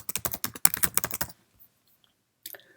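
Quick bursts of typing on a Mac keyboard while entering an email subject in Outlook, close and crisp for over a second, then a pause and one brief final key tap.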